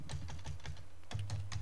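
Fingers tap a computer keyboard in a quick, steady run of close keystrokes, soft and unaccompanied.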